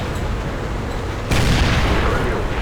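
A tank cannon fires in a tank video game, one loud sudden boom that cuts in abruptly and leaves a sustained roaring rumble behind it.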